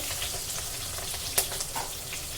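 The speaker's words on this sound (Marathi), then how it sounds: "मिरच्या चांगल्या पांढऱ्या होईपर्यंत परतून घ्यायचा आहे" Cut green chillies frying in a pan over low gas, a steady soft sizzle with a few faint stirring clicks and small pops, fairly quiet and alone without voices.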